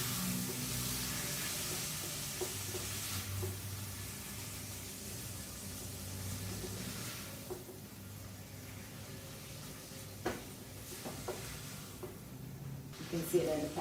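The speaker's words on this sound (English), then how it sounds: "I'm just gonna go ahead and mix this up and break it up in the pan" Ground beef sizzles and frying in a pan on high heat while being stirred and broken up, a steady crackling hiss with occasional scraping, faint background voice underneath.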